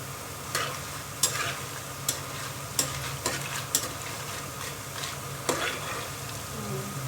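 Besan boondi sizzles and crackles in hot oil, with scattered sharp pops and stirring scrapes over a continuous frying hiss.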